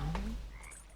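A frog croaks once, close and short, with a quick upward-sliding call, among ambient wilderness sounds in Red Dead Redemption 2.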